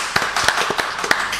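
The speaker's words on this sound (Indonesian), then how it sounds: "Tepuk tangan dulu buat mereka." At a podcast recording, guests are greeted with clapping: a handful of sharp, separate claps land near the mic in an uneven rhythm over a second and a half.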